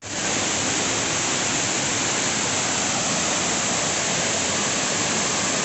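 Punnayar waterfall roars close by as spray splashes near, a dense, unbroken rush of loud water.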